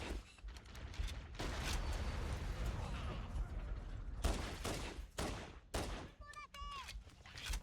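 Rapid pistol gunfire in the video game Halo, a dense stream of shots and battle noise filling the mix, with sharp electronic tones near the end.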